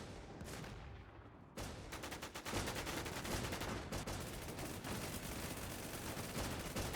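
Rapid gunfire rattles through a shooting game, dense overlapping bursts of shots that build after a brief quieter start and stay loud and continuous.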